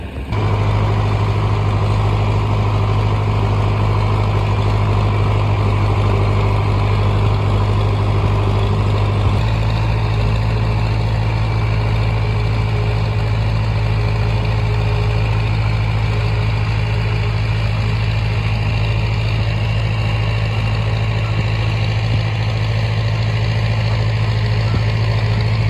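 A farm tractor idling while out planting beans, a loud steady low engine drone with a constant hum that shifts slightly in pitch early on, then runs on unchanged.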